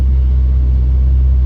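A Bentley Continental GT Speed engine in manual mode, a heavy, steady low rumble at idle or light throttle, loud and close with no voices.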